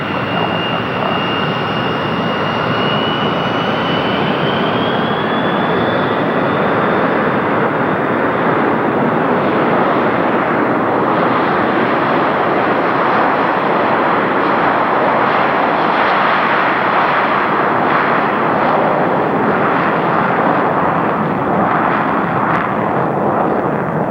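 An airliner taking off from runway 26 left at Stapleton Airport in 1990, a loud, continuous jet engine roar heard from the field that rises to a sustained broadband rumble and holds steady with a faint high whine, no voices.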